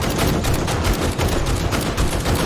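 Rapid gunfire in the zombie survival game 7 Days to Die during a horde night, loud and continuous, dense overlapping shots forming a steady barrage without pauses.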